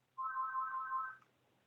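A phone rings with a single short electronic ringtone burst of about one second, a steady warbling tone that is faint and alone against quiet background.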